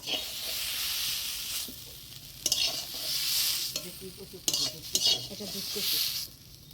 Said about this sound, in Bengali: কচুর পাতা কাঁচা লঙ্কা রসুন কালো জিরা খুব সুন্দর করে ভাজে নিলাম